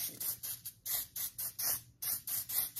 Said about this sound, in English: Okay, I'm gonna take this setting spray